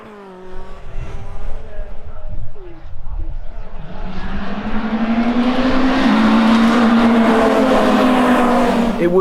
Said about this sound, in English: It would be Daniel Smith who got off to the best start on the first lap of race number 1